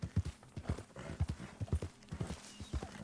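Horse hooves in the video game Red Dead Redemption 2, a steady rhythmic clip-clop of a walking horse, close and clear, with no speech over it.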